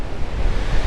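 Strong wind and crashing surf at a windy cliff edge on Comino, Malta, merge into a loud, continuous roar with gusting microphone buffeting and no voices.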